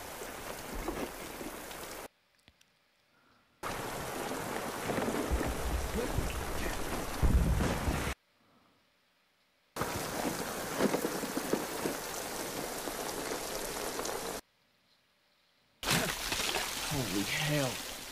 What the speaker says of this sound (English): they're so used to being out in the rain for so long